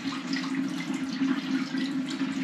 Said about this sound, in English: The water's running out.